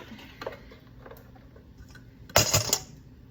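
Eggs cracked into a bowl while making a quiche, a few soft taps early on, then a sharp crack and clinking of shell against the bowl near the end, close and fairly quiet.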